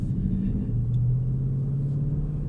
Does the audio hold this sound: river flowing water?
no